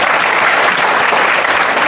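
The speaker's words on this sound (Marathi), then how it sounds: "त्यांच्यासाठी जोरदार टाळ्या वाजवणं गरजेचं आहे" Audience in a school hall applauding the organiser at a Mahatma Jyotiba Phule death-anniversary programme: steady, dense clapping from many hands, loud and continuous throughout with no talk over it.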